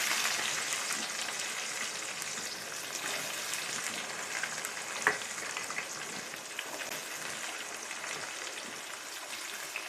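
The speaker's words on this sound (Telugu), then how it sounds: "కొంచెం లైట్గా దూరగా వేయించుకోవాలి." Onions frying in a pan with cumin, mustard seeds, garlic cloves and dried red chillies, a steady soft sizzle and crackle throughout, with one small clink near the middle.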